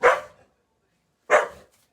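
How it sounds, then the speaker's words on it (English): A dog barks twice, loud and close, each bark short and separated by about a second of silence in a home kitchen. "She just likes to hear herself bark"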